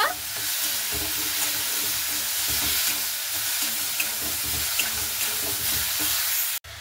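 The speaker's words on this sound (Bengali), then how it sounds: "টমেটোটা দিয়ে একটু ভালো মতো করে নাড়াচাড়া করে নেব" Tomato paste is stirred into a hot pan while making chow mein, a continuous sizzle with scraping spoon strokes repeating in a loose rhythm, close and fairly loud, ending with a brief clatter.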